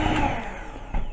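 Cupcake batter with a pinch of salt being mixed, a steady whirring, churning drone running loud and continuous throughout with a brief surge near the end.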